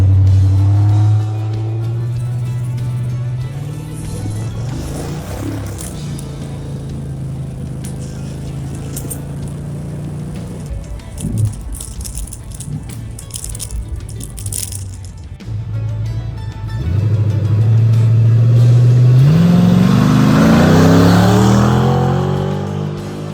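A car with a carbureted 5.3 LS swap launches in second gear, engine revving hard and building through a long acceleration, rising in pitch through the gears, loud and close, with rumbling strain and no voices.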